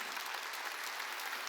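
A congregation applauds at a Wednesday worship service, a brief, even burst of many hands clapping, heard at a distance.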